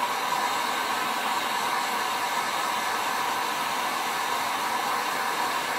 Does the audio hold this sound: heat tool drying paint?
yes